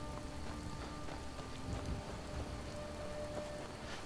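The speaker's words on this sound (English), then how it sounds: "the water ripples with the rain" Steady rain patters on water in Skyrim, a dense, even hiss of drops across the whole stretch with soft scattered splashes and faint music tones underneath, no talking.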